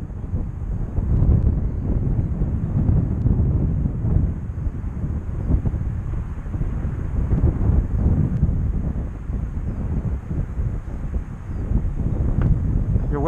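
Steady wind buffets the microphone at an airfield with a light crosswind, a continuous low rumble that swells and eases without pause, loud and close throughout.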